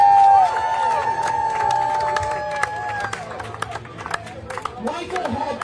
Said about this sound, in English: Let's have a round of applause for all of our contestants up here.